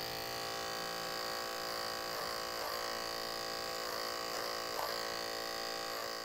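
A larger electric hair clipper fitted with a 1.5 blade touches up a short textured taper at the back of a head, giving a steady, close, continuous buzz with faint brief changes in tone as it moves through the hair.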